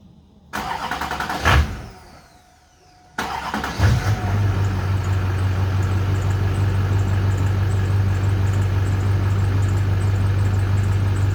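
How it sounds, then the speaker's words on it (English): Duramax diesel pickup truck engine cranking and catching after a brief pause, then settling into a steady, loud, rumbling idle as it warms up, close by with no talk. "So we're gonna go ahead and warm up that engine."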